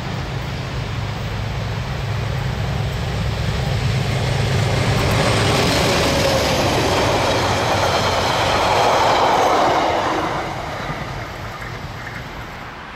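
A passenger train rumbles past at Chertsey, New Zealand, with a broad rushing roar that swells toward the middle, then fades as it moves away; no voices.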